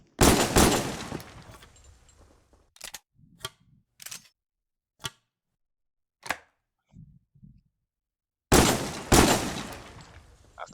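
Shotgun blasts in the VR game Pavlov, with two loud booming shots at the start and two more near the end, separated by quieter mechanical clicks and clacks from handling the gun.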